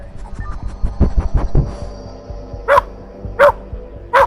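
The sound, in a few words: police dog barking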